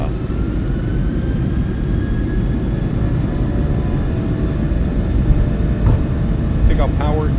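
PMDG 737-700 jet engines run at takeoff power in a flight simulator, with a steady loud roar and a rising whine throughout, briefly interrupted by a few chirping beeps near the end.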